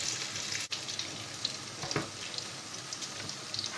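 Cauliflower and potato fritters fry in hot oil in a pan, giving a steady close sizzle that runs throughout, with a few faint clinks and pops.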